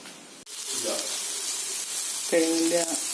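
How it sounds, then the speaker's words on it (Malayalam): Chopped onion, ginger, garlic and curry leaves sauté in a pan for a potato curry served with puri. A continuous close sizzle runs throughout, and a short tonal hum or squeak rises near the end. "സവോള ഇഞ്ചി വെളുത്തുള്ളി കറിവേപ്പില ഇതൊക്കെ അരിഞ്ഞെടുത്ത് വഴറ്റുന്നു"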